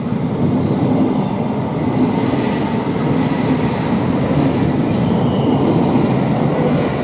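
A rush-hour train on the East Coast Main Line at Stevenage, a loud, steady, close rolling roar that holds without a break from start to finish.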